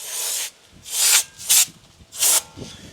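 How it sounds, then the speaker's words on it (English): Four bursts of pressurized non-chlorinated brake cleaner spray hiss out onto Toyota Tacoma brakes, the first longer, then three shorter blasts spaced roughly half a second apart, close and loud. "brake cleaner. It's non-chlorinated, and I'm just going to spray pretty much this area here"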